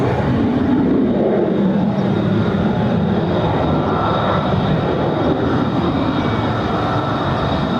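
An airliner rotates on takeoff at Barcelona airport, a loud steady roar of jet engines heard from a distance with broad rumbling noise throughout and no voices.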